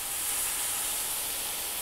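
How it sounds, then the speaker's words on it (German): Dry red wine hitting a hot Dutch oven to deglaze beef shank, giving a steady, loud broadband hiss and sizzle that holds without a break, with no voices over it. "Und jetzt zischt das schön."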